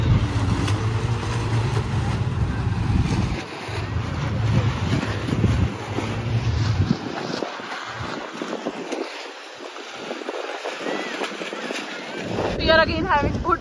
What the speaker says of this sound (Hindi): काफी तेज हवा आ रही है।